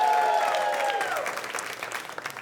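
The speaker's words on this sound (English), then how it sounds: "Now clap if you're not related to me." An audience claps briefly at a comedy show, a short burst of scattered hand claps that thins out and fades, with a sustained tone fading out underneath at the start.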